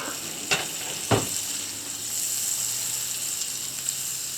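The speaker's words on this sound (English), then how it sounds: "Add your butter. Butter won't take long to melt." Butter melting in a hot pan, a steady sizzle with two sharp clinks of a utensil against the pan near the start.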